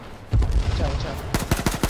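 Rapid bursts of light machine gun fire in a video game, sharp repeated shots in quick rhythmic strings, loud and close, with a voice briefly over the gunfire.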